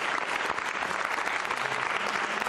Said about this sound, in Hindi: सना जी के लिए जोरदार तालियां।